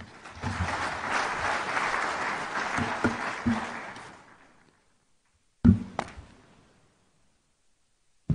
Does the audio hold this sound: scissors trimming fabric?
no